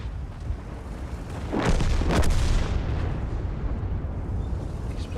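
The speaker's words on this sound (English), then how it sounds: "Explosions going off around us, people getting killed." Battle explosions in the tank game World of Tanks: a heavy booming burst erupts about a third of the way in, over a continuous rumbling wash of distant combat noise.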